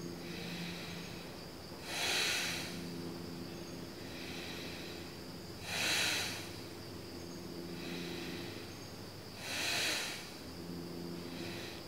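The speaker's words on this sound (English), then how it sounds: "This is called abdominal breathing." Slow yogic abdominal breathing, three strong, airy breaths at even intervals of about four seconds, each swelling and fading, close to the microphone over a soft steady background hiss.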